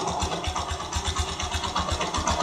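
A Yamaha YTX motorcycle idles steadily while its carburetor is being tuned, the engine running close and continuous with a rapid, even low pulse and no voices over it.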